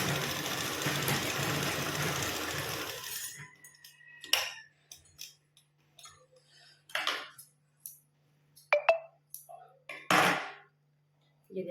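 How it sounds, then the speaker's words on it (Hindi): A sewing machine stitches the centre of a suit neckline, whirring steadily for a few seconds before stopping, followed by scattered light clicks and handling taps of fabric and tools. "सबसे पहले मैं इसको फिक्स कर देती हूँ और बीच में लगा देती हूँ मशीन।"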